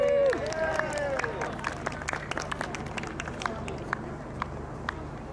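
A small audience claps and cheers for a helper at a backyard show, a scattered run of sharp claps over crowd murmur after a voice's rising whoop at the start.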